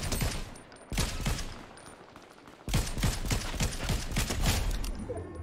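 Rapid gunfire in the video game Fortnite, with loud, close bursts of automatic shots that cut out briefly and then resume in a sustained rattling volley, with no talking over it.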